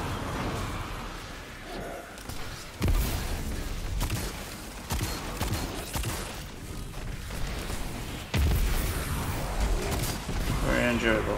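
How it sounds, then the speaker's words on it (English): Rapid hand cannon gunfire in the sci-fi shooter Destiny 2, Hunter gameplay in the Dark Monastery, with loud repeated shots and booming impacts layered over game music and effects, while a player talks throughout. "I'm using hand cannons because I need hand cannon multi-kills."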